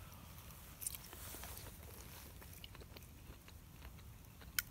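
Someone quietly chewing a bite of steak on a solo overnight hammock camp, with soft, close, moist chewing and a couple of faint clicks in a hushed outdoor setting.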